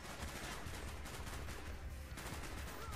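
Rapid automatic gunfire from the video game Call of Duty: Black Ops 1 fills the whole stretch as a dense, continuous fusillade of shots at steady loudness, with no talking over it.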